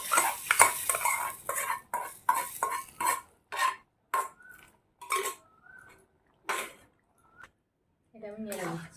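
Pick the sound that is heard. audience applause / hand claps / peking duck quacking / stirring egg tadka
stirring egg tadka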